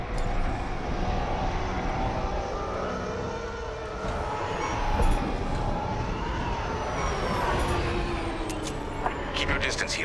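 Starfighter engines in the Star Wars: Squadrons video game roar in a loud, steady, dense wash with occasional higher whines passing over, while a voice talks over it.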